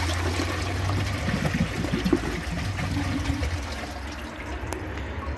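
American Standard Plebe toilet flushing and its tank refilling, a steady close rush of running water that gurgles briefly, then settles into a softer, even fill.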